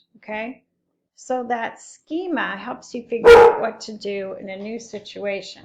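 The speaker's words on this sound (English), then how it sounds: "That was my dog" A single loud dog bark bursts out midway through continuous nearby speech, with the talking carrying on before and after it.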